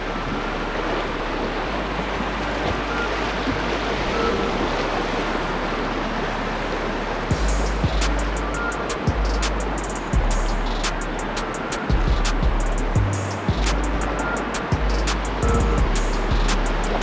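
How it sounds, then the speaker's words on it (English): Rushing river rapids on the Upper Chattahoochee roar steadily and close up on race day, a dense, unbroken wash of churning water with occasional knocks and splashes from a boat. "Actually a pretty scary rapid when the water's down."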